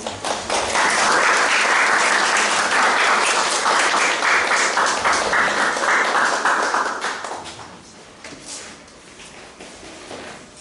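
A church congregation gathered for an afternoon worship service claps loudly to welcome a guest speaker, a dense, sustained round of applause that fades over the last few seconds into quieter scattered claps and room noise.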